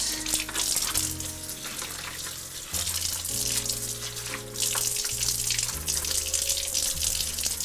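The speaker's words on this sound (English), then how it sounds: "Then I just give this a nice cleaning, and I rinse that out." Water runs and rinses into a kitchen sink with a metal strainer, then drains away, as a steady loud rush with no talking.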